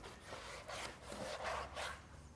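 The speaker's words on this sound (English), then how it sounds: "as with any sawing, just through the bone, not through the flesh underneath" Rhythmic rasping strokes of a handsaw cutting through pig bone during a carcass breakdown, steady back-and-forth at close range with no talking.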